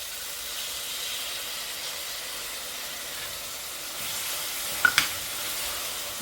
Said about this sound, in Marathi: टोमॅटो आणि मिरचीची पेस्ट आपण टाकल्यानंतर थोडं परतवून त्यामध्ये मीठ टाकायचं